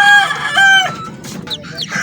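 High, thin peeping from chicks with dry feet, a few drawn-out calls followed by quicker chirps, close and clear with little else around.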